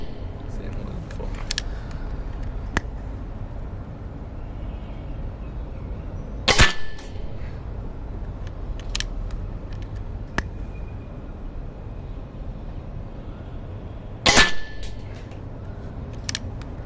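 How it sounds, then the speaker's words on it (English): Precihole Px100 Achilles PCP air rifle fired at a target, two sharp, loud cracks spaced several seconds apart with faint lighter clicks between, over a steady low background hum. "They're all quick fired shots."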